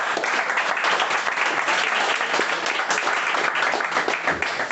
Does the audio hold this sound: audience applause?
yes